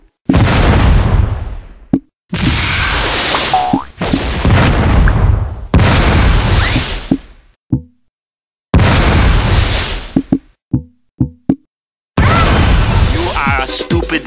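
Repeated bomb blasts from the video game Atomic Bomberman, loud booming bursts in several long stretches separated by silent gaps, with a few short sharp pops near the end.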